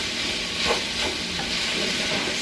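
Food with cumin sizzles and is stirred in a hot pan, a loud, steady frying hiss with soft scraping strokes from the stirring.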